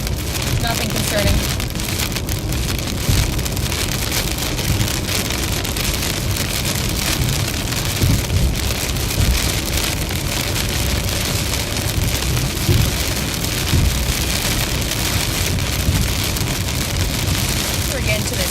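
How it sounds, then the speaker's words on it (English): Heavy rain pours down steadily during a severe thunderstorm in the Ohio Valley, a dense, loud, continuous hiss drumming on surfaces close by, with faint wind and occasional low rumbles underneath. "heavy rain now. Getting towards the middle of this now."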